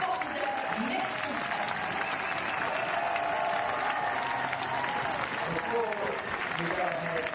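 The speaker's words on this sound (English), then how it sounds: "Un énorme tonnerre d'applaudissements pour tous ces volontaires qui ont fait un travail formidable." Stadium crowd at the Paris 2024 Paralympics marathon applauding volunteers, a broad, distant-sounding wash of clapping and crowd noise with a voice talking over it.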